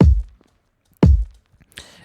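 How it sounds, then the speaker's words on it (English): Two deep, punchy kick drum hits about a second apart, dry and loud, followed by a faint tick. "we can move on to shaping our kick drum and cleaning up some of its clutter"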